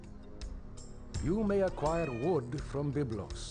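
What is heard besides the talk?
cat meowing, wanting dinner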